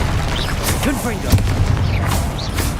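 A Confringo spell explosion goes off in Hogwarts Legacy, a booming fiery blast with whooshing magical effects layered over game background sound.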